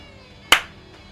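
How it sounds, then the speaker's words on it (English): A single sharp slap of skin on skin as someone shifts in a chair, one crisp close clap that decays quickly over a quiet background. "The sound of my ass cheeks clapping as I readjusted in my chair."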